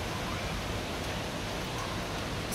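Heavy monsoon rain pouring steadily outside after dark, a dense, even wash of hissing noise with no breaks, moderately loud and continuous.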